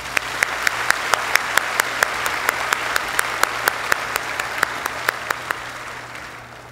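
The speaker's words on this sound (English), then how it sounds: "Let's give him another round of applause." A high school graduation audience gives another round of applause. Sharp, evenly spaced claps sound close and loud over a softer crowd wash, keeping a regular rhythm for about five and a half seconds before fading out.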